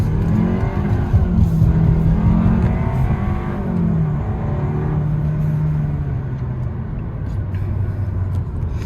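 A turbocharged 2023 Kia K5 GT Line rolls out and accelerates hard, its engine note climbing in pitch through the gears with audible shift drops, loud and close from inside the car.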